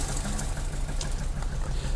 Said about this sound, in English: You can see it hunting there on tickover.